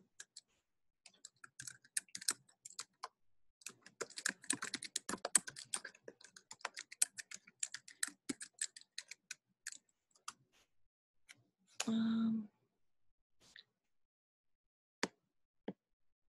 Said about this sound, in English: Let me see if I can type you the address.